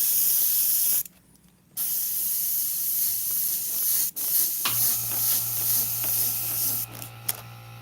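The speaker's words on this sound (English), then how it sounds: "I've got to spray a littleit more down here. Just very lightly." Airbrush spraying Createx paint onto Blair synthetic paper in light passes: a close, steady airy hiss that cuts out briefly twice, then settles into a softer spray with a low compressor hum beneath.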